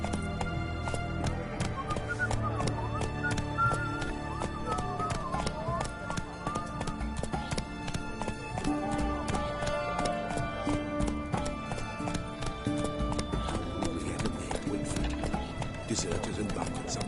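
Roach, the horse in The Witcher 3 video game, gallops with continuous rhythmic hoofbeats and an occasional whinny, layered under game music, with brief spoken lines from characters.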